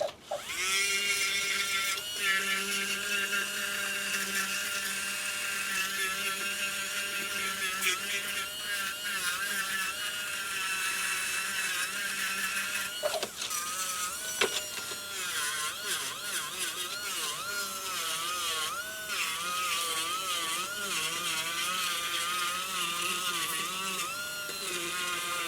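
A rotary polishing burr in a dental handpiece runs against a chairside provisional denture, giving a continuous, loud high-pitched whine with steady harmonics that wavers slightly in pitch as pressure changes, sustained for the whole stretch without pause.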